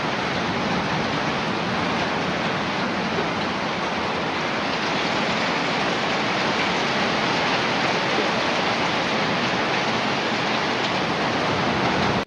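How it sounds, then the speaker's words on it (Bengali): Heavy rain pours down as a dense, even roar of broadband hiss, loud and unbroken throughout, with no voices. "ঝরে বৃষ্টি পড়ছে, এখানে দেখা যাবে না, দাঁড়ান আপনাদেরকে দেখাই। দেখুন কি রকম বৃষ্টি"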